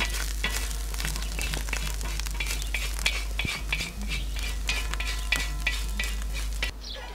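Onions frying on a hot saj while being stirred with metal utensils, a steady sizzle under repeated scraping and light clinks at an irregular pace, close and fairly quiet, with no talking.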